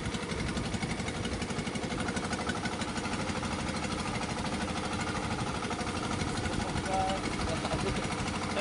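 A generator engine on a squid-fishing boat drones steadily and loudly throughout with a rapid knocking pulse, while people talk over it.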